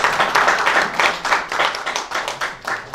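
A school quiz audience claps for an academy team, individual hand claps clearly distinct in an uneven, pulsing patter that rises and dips, moderately loud and close, with no speech over it.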